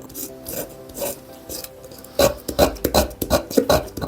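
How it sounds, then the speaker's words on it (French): Dried birch polypore fungus being scraped, a rough rasping sound in repeated strokes, sparse at first and then quicker and louder, close-up with no talking. "on vient gratter"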